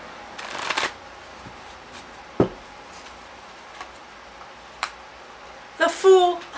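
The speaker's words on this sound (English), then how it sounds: "Tell me to keep shuffle cutting." Tarot cards shuffled and cut by hand, a quiet rustle and a few crisp riffling bursts with short slaps between them, ending in a louder shuffle. The reader speaks briefly alongside.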